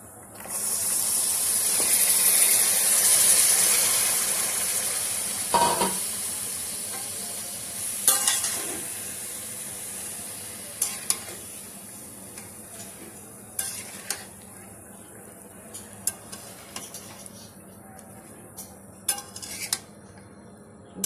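Mixed vegetables frying in a pan, a strong hiss that gradually settles into a quieter sizzle, broken by scattered clinks and scrapes of a utensil stirring against the metal.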